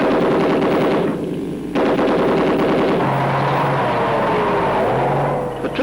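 A tank's machine gun fires speculative bursts at a possible enemy position during a troop advance, a loud, dense rattle of rapid shots over a continuous engine drone, with brief pauses between bursts.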